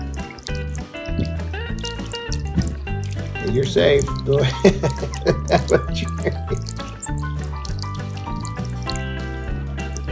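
A small garden bird bath fountain trickles and drips water in a continuous light patter, heard close under background music, with a voice speaking briefly midway.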